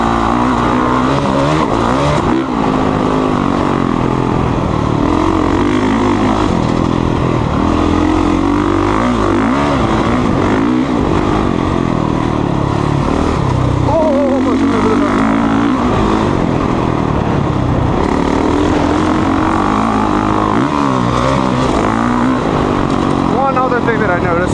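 Honda CRF450R dirt bike engine running loud and steady throughout, with rising and falling revs as it is ridden, continuous and close.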